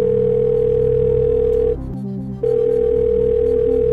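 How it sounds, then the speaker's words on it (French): Steady telephone dial tone from a call being placed to a friend during a game-show lifeline, continuous and loud with one short break near the middle, no talking. "je vais appeler justement mon ami Francis"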